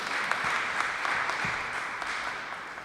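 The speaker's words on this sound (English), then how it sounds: "Let me give you the clap." Applause at a Brooklyn police hero-of-the-month ceremony, a moderate, fairly distant wash of clapping from a gathered crowd that holds steady throughout at low level.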